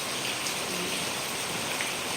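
Steady rain pours down, a dense even hiss of drops falling on surfaces with no voices.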